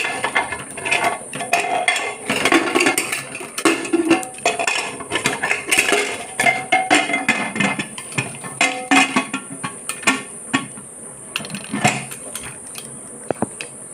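A pressure cooker lid fitted and closed, with close, loud metallic clanks, scrapes and rattles coming in irregular bursts over several seconds, then quieter clicks near the end, no voices.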